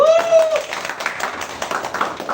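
A group of people clap together during a live session, a short burst of light, scattered claps mixed with voices.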